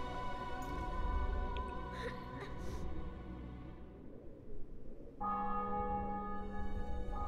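In The Witcher 2: Assassins of Kings, church bells toll over a city and fortress just taken in battle, ringing out resonant and sustained over crowd noise and a swelling orchestral score.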